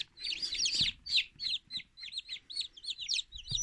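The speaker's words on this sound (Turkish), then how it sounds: "Mesela şu 19. günde çıkan civciv." Newly hatched chick peeping close by in an egg incubator, a quick run of shrill, high cheeps in an uneven rhythm, with a few soft thumps underneath.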